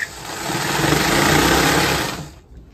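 A sewing machine stitches a border strip onto a quilt pieced from old gowns, running as a loud, steady close-up whir for about two seconds before it stops abruptly.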